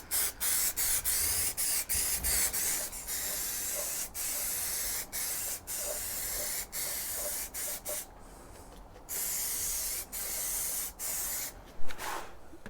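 Motorcycle parts that were cleaned with solvent are spray painted black. The can gives a steady, close hiss in repeated long bursts with brief gaps between them, and a short sharp knock comes near the end.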